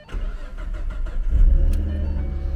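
A 2014 Ford Mustang's engine cranks and catches, then settles into a deep, loud rumbling idle with a strong low exhaust note, heard up close with no talk.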